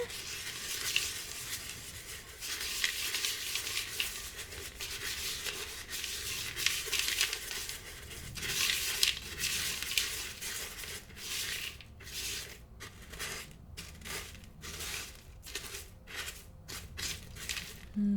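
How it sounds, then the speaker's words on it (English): Ingredients for a sleep potion being mixed in a vessel, with soft scraping, rubbing and stirring that runs continuously and closely, broken later by short rhythmic strokes. "I'm going to go ahead and mix these together"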